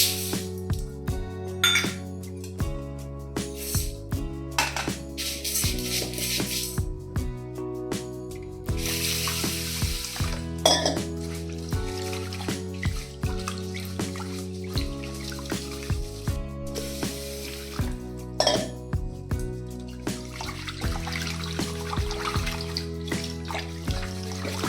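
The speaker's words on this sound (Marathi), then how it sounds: "तर सर्वात पहिले मी हे तांदूळ आणि डाळ मस्तपैकी धुवून घेणार आहे." Rice and dal are rinsed by hand in water for khichdi, with continuous close sloshing and swishing, light clinks against the pot, and background music underneath.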